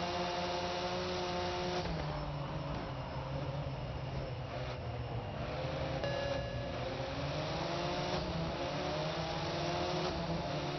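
Race car engines in the Project Cars 2 video game whine and rev steadily, a continuous, fairly quiet drone with shifting pitch and no talk.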